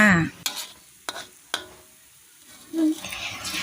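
Fish and pounded curry paste stir-fried in hot oil: a steady sizzle broken by a few sharp scraping strokes of a spatula against the pan, with brief bits of a voice.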